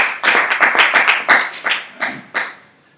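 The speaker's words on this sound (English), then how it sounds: "clap for Martin" An audience gives a short burst of hand clapping for Martin at the close of a talk, about a dozen distinct claps fading out over a few seconds, close and clear with no speech over it.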